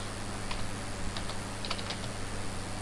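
Someone types a message on a computer keyboard in soft, scattered clicks, lightly tapped and partly masked by a steady background hum.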